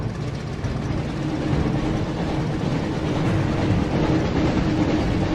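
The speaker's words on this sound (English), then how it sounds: "Looks like we found the train, Ron." A train rolls along in the Harry Potter and the Chamber of Secrets video game, giving a continuous loud rumble with rhythmic clattering of the wheels and no speech.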